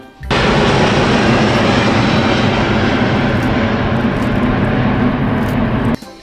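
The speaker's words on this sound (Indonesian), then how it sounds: "ini pesawat aerobus teman-teman." A loud, steady Airbus airliner jet engine roar fills the clip, starting abruptly and cutting off near the end, with broadband rumble and no voices.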